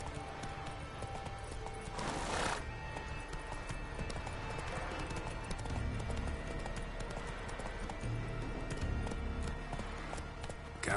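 Roach the horse's hooves in The Witcher 3 clip-clop in a steady, quick rhythm on the ground, with a short whooshing burst early on and occasional faint snorts.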